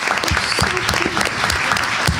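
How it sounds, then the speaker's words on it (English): Audience clapping for first grade students at a school board meeting, a loud, steady burst of applause from a room of people with some louder individual claps standing out. "How about another clap for them?"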